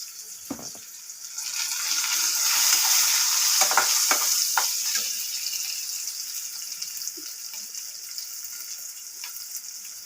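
Cumin-spiced food fries in a pan, giving a strong hiss that rises and then eases while a few spoon scrapes and clinks come through early.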